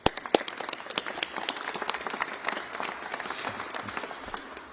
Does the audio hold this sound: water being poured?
no